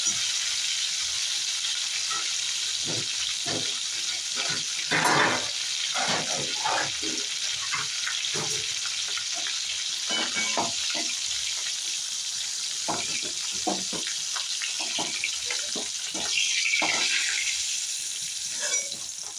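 Hilsa fish frying in oil sizzles steadily and close, broken by repeated clatters and scrapes of a utensil against the pan.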